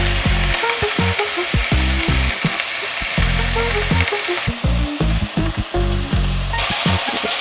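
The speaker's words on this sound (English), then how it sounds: "Just going to heat up a little bit of oil in a pan" Food sizzles steadily in hot oil in a pan, a continuous bright frying hiss with intermittent stirring and clatter, close and fairly loud, no voices.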